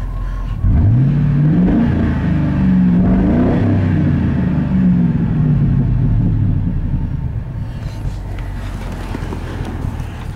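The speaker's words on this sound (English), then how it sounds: "You just rev it and she's still coming out." A 2002 Ford F150 pickup engine revs up and down loudly and close, steady heavy rumble with rising and falling pitch sweeps throughout, alone without talk.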